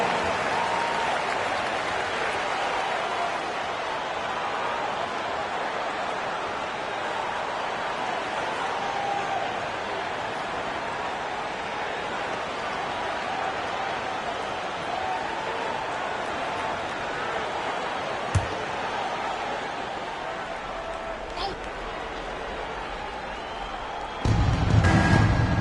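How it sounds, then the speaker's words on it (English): Arena crowd applause in an NBA 2K basketball video game, a steady wash of clapping and crowd noise throughout, with a sharp thump near the end and a louder burst as it closes. "squad, give them a round of applause."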